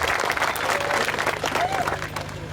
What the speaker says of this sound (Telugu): ఒక్కసారి చప్పట్లతో స్వాగతిద్దాం.